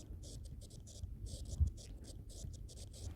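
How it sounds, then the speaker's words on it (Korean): Handwriting by a teacher in a lecture, a pen or marker scratching in short bursts of strokes, quiet and close, with brief pauses between words. "여기다 써볼게요"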